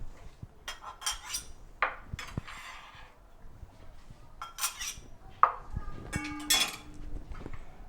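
A knife scrapes chopped parsley off a cutting board into a container, giving several short scraping strokes with clinks of metal against dish and board, close up, with no talk.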